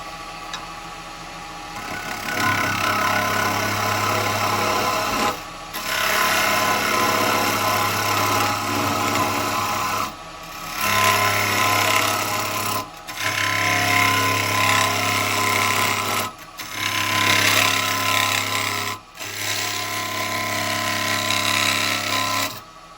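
A woodturning tool scrapes a yew bowl spinning on a lathe, a steady close whirring drone with a low motor hum, broken by four or five brief pauses where the cut stops, no voices.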